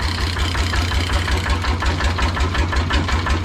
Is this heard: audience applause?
no